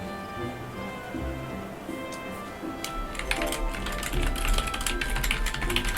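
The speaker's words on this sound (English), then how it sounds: "if you guys hear that loud clicking sound, that's my old keyboard that I upgraded from" Loud clicking of an old mechanical computer keyboard, rapid uneven keystrokes clattering over a steady background hum, growing denser and busier in the second half.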